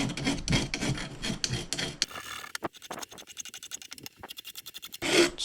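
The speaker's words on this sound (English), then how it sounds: "Probably be use a bit of emery cloth for that if you haven't got a file" A cut Fox Factory mountain bike fork steerer has its sharp edge rubbed down with emery cloth, a steady rasping scrape in rapid repeated strokes, loud and close, then a shorter run of separate rubbing passes with no talk.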